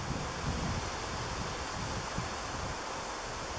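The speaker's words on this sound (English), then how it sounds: "You can hear the wind probably too." Outdoor wind, a steady broad rushing hiss with low buffeting rumble against the microphone, constant and moderately loud with no voices.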